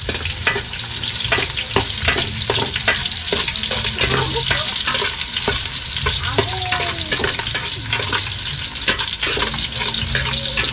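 Onion and ginger frying in cooking oil make a loud, steady sizzle with frequent sharp crackles and the scrape of stirring, while running water is heard faintly in the background.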